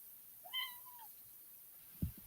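A cat gives a single short, rising-and-falling meow, quiet and somewhat distant against a soft background hiss, followed a moment later by a faint low thump.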